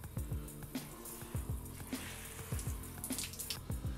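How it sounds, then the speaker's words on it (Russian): Running water rinsing cleaning product off a shower cabin, a faint steady splash with small periodic drips and spatters throughout. "Смываем полностью все средство."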